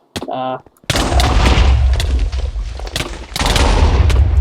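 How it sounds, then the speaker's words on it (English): Barrage of black summoned swords from the Minecraft Slashblade mod, a dense rumbling volley of impacts and booms after a short tonal chime, loud and sustained. "It's simply a barrage of these black summoned swords, and along with a Slash Dimensions, which causes a bit of wither"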